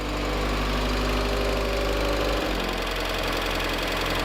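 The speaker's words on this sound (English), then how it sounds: "Right now it's idling like 1400 RPM," A Mazda Miata 1.8 engine on solid mounts idling near 1400 RPM, a steady, close, low rumbling drone that dips briefly midway and then settles slightly lower, with no voices.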